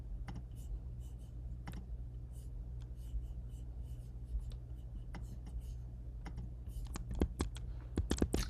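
Someone types on a computer keyboard during an online class meeting, with soft irregular clicks over a quiet background hum; the keystrokes speed up and grow louder toward the end.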